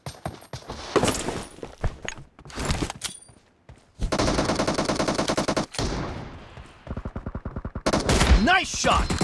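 Gunfire rattles through a PUBG Battlegrounds Mobile match in rapid automatic bursts and single shots. A lone game voice and other in-game sounds break in between the volleys, all loud and close.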